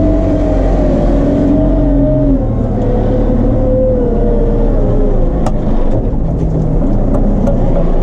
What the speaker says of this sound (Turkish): Çünkü traktör gidiyor.